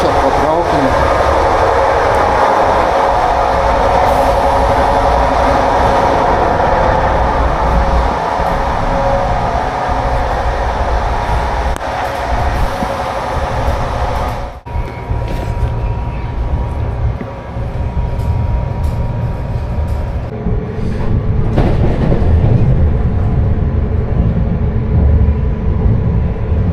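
Steady rumble and rattle from inside a moving passenger train between Kaunas and Lentvaris, continuous throughout with shifting clatter, while people talk.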